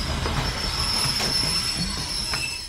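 A toy train rumbles steadily along its rails, with a thin high whine and light clacking over a continuous low hum.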